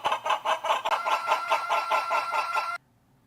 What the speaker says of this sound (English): And layered clucks.